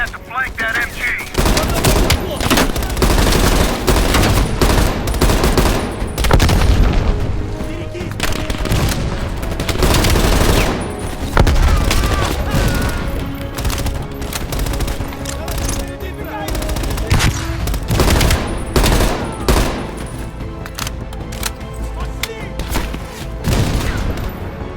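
Sustained machine gun fire with dense rapid bursts and heavy booms from a Black Ops Cold War campaign battle, loud and continuous for the whole stretch, with occasional voices underneath.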